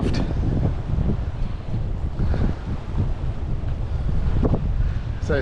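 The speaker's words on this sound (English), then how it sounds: "Hear the roar of that wind aloft." Wind roars through the rigging of a sailboat at sea under gale warnings, a loud, continuous gusty rush with buffeting on the microphone, swelling and easing without pause.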